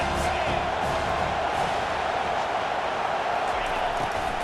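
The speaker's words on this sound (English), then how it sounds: "Big 3rd down as the crowd gets behind this defense." Stadium crowd noise from EA Sports College Football 25 swells in a steady, dense roar of cheering behind a big third-down defensive stand, broad and continuous throughout with no clear breaks.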